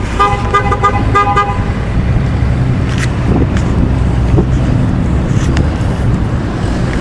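A car horn honks from an SUV passing a protest outside an FBI field office, two or three quick toots near the start amid steady traffic and wind noise, with no voices.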